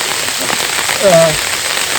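Heavy rain pours down in Karjat, Maharashtra, amid flooding over flattened paddy fields, a dense, steady hiss of drops beating on surfaces with a brief faint tonal sound partway through.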